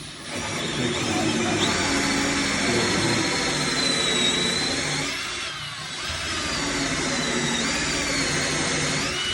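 A power drill whines steadily and loudly, boring through a thick countertop, grinding continuously with a brief dip in the middle before resuming at full strength.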